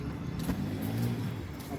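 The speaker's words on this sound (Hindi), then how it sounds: "अब आई गाड़ी" A car pulls up at a police station in Pihani, its engine rumbling and revving steadily at close range for a couple of seconds, with crowd noise faintly behind.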